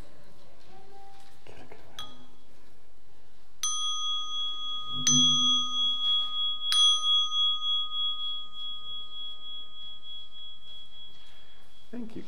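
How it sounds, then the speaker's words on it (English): A handheld bell is struck three times in steady succession during a church's Sunday service, each bright ring hanging on and slowly fading. A voice speaks faintly just before the strikes. "May the sound of the bell remind us that the Spirit of God is within us and"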